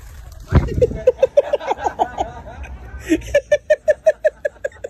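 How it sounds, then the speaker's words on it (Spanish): A hen chased by a rooster gives a rapid series of loud, close squawks and clucks in quick rhythmic bursts, with a short pause before a second volley. "Ese gallo está violando a la gallinita."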